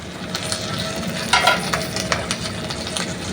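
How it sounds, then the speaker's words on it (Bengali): Bhetki fish paturi wrapped in banana leaf frying in a pan over low flame, a steady soft sizzle with a few sharper crackles and pops rising above it. "এবারে এই পিঠটাও আমি এরকমভাবে ভেজে নেব, মিনিট 5-7 রাখবো।"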